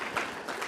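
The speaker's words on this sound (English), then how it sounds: "Why don't we give her a big round of applause for this powerful presentation?" Audience applause at a conference after a presentation, a brief, steady wash of clapping at moderate level with no voices.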